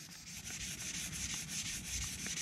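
Steady hand wet sanding on a car bumper, a continuous close scratchy rubbing with rhythmic back-and-forth strokes and a hiss of water-soaked abrasive, no talking.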